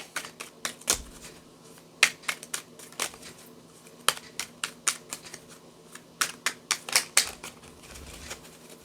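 Tarot cards being shuffled by hand, a quick run of crisp riffling snaps and clicks with one card flipping free, close and fairly quiet, no talking.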